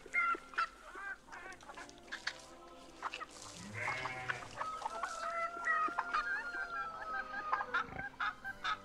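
Chickens cluck and cackle repeatedly in a farm scene from the strategy game Victoria 3, a busy, fairly quiet layer of overlapping fowl calls with no talk over it.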